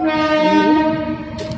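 A passing train sounds its horn in a loud, sustained blast close by, the rumble of the railcars running beneath it.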